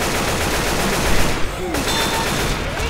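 Dense continuous gunfire in the video game Left 4 Dead 2, rapid automatic bursts with overlapping shots, loud and unbroken, with player voices faintly mixed in.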